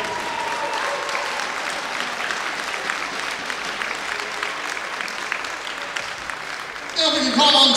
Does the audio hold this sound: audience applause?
yes